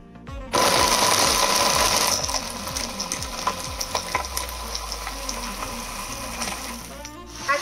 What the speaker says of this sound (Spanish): Y nuevamente a licuar.